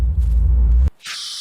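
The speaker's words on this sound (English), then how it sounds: "Spray paint." In a video game, a spray paint can lets out a sharp, steady high hiss that follows a low rumble cutting off abruptly, loud and close with no speech.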